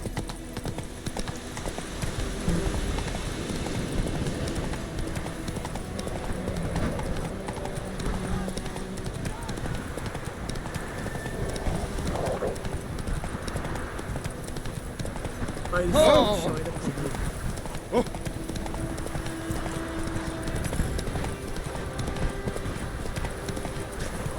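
Galloping horse hooves in the Witcher 3 video game make a steady, rapid clip-clop rhythm throughout, with a brief louder thud midway and speech over the top.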